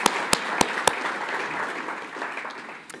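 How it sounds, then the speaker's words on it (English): Audience applause at a New Zealand conference session: steady, dense clapping from a seated crowd, opened by a few sharp, close claps, then thinning toward the end. "Another round of applause, please, ladies and gentlemen, for Mayama and for Pat."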